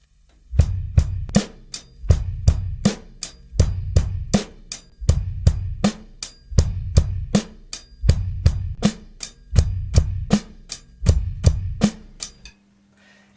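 Bass guitar playing an eighth-note rock groove, a steady run of evenly spaced plucked notes in repeating bars, close and clear with no talking, ending in a brief pause.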